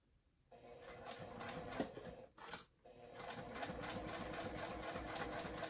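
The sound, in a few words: sewing machine back stitching thick fabric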